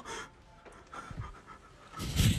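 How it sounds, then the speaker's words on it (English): A dog pants in quick, soft breaths at close range during a flip-flop-strewn walk, the breathing rising to a louder burst of huffs at the end. "I like his little breathing."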